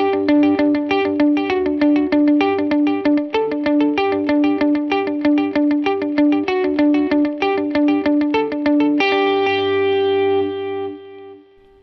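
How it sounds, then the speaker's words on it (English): Distorted electric guitar plays a steady, rhythmic run of notes, each echoed by a dotted-eighth delay that fills the gaps, ending on a ringing chord that fades out. "the dotted eighth is going to fill in those gaps with some echo"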